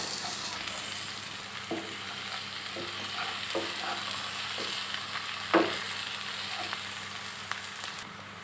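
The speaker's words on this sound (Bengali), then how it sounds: "আমি এখন পেঁয়াজ ভাজার সাথে এই রসুনগুলো দিয়ে দিচ্ছি" Onions with garlic frying in a pan, a continuous close sizzle broken by several sharp spatula scrapes and knocks against the pan, with no voices.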